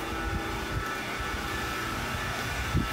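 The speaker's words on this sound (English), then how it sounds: "This is a 10 horsepower G0638 Grizzly 3-phase 10 horsepower Cyclone." Loud, steady roar and whine of a 10 hp Grizzly G0638 three-phase cyclone dust collector running with no bags or ductwork attached, a dense continuous drone with tonal hum and a couple of small thumps.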